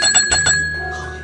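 A bicycle-style bell rung in quick succession, three or four bright close dings, then a ringing tone that fades out, with no talk.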